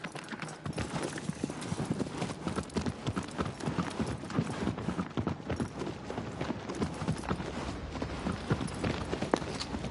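Horse hooves galloping across open ground in Shadow of the Colossus, a fast, continuous clip-clop rhythm, close and fairly loud, with no talking over it.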